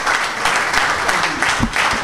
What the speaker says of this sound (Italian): Facciamoci un bel applauso innanzitutto